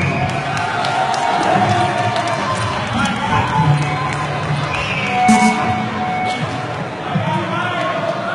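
Concert audience at a tribute show applauding and cheering, a dense continuous wash of clapping and shouts with occasional whoops, loud and close throughout.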